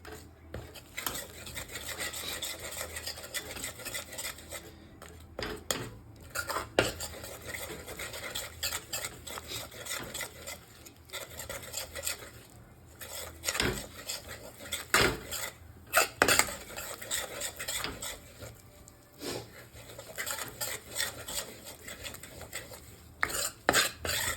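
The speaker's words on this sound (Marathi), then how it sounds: "मैदा टाकल्यानंतर कंटिन्यूअस हलवायचं, याला लम्स नाही झाले पाहिजे." Flour being roasted in a pan for white sauce, stirred continuously with a utensil scraping and knocking against the metal, irregular close clatter over a low frying hiss for a long stretch.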